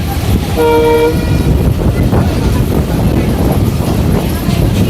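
Mongla commuter train at a railway station on a cloudy day, a short horn blast early on over the loud steady rumble and rattle of the train, with voices in the background.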